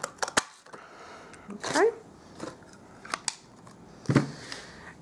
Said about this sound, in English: with my 1 3/8 circle inch punch, I'm just going to cut out a circle there with the foil, the gold foil.